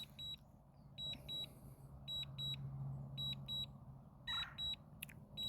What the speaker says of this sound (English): You're going to hear it beeping for a while,